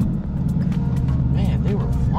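Cars rush past on the road at speed in a steady, loud rumble with rising and falling whooshes near the end, while a man chats over the noise.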